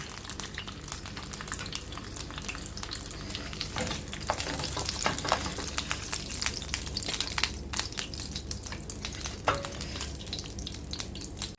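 Chicken pieces for kabsa fry in a hot pan with a steady, dense sizzle and crackle, close up and continuous with occasional sharper pops and light stirring.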